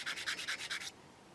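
A spongy sanding stick rubs back and forth over the curved plastic surface of a 1/35 scale Takom Chieftain Mk10 tank model, giving about eight quick, close, raspy strokes in a steady rhythm before stopping.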